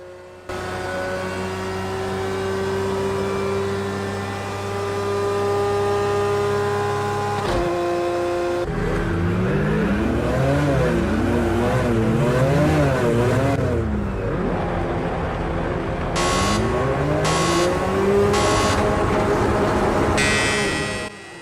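Race cars in Project Cars 2 at the Red Bull Ring sit humming at a steady idle, then roar off the start, engines climbing and shifting through rising and falling revs in a loud, sustained pack.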